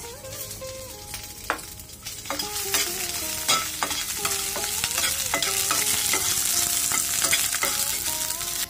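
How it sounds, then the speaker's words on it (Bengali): Chopped ginger and four green chillies frying in hot oil in a pan, a steady close sizzle with repeated scraping strokes of a spatula stirring them around, no voices. "এখন তেলের মধ্যে ভেজে নেব আদা কুচি, আর সঙ্গে ভেজে নেব 4 পিস কাঁচা মরিচ"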